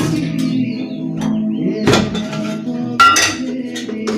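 A metal kadhai wok set onto a home kitchen stove, with clanks and clinks of cookware in close, sharp bursts around two and three seconds over a low background hum and distant outdoor noise.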